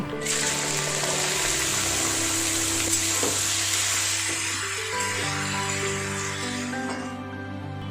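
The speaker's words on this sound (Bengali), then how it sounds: "এবার ওই তেলের মধ্যে আলুগুলো দিয়ে ভেজে নেব।" Potato pieces fry in hot oil with a steady, dense sizzle that holds at an even level throughout, with a faint low hum underneath and some light stirring.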